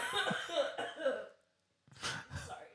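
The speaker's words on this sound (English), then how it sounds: "Do you have medicine for that cough?" A person coughs repeatedly, a cluster of harsh close coughs, then a short pause and another burst of two coughs with throat clearing.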